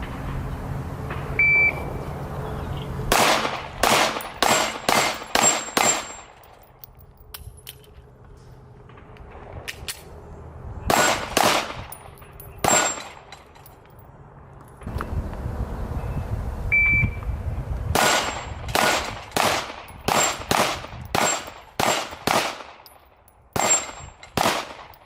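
A Springfield Armory Hellcat Pro pistol fires at an outdoor shooting range in rapid strings of sharp, loud shots, with pauses between groups and a few faint electronic beeps.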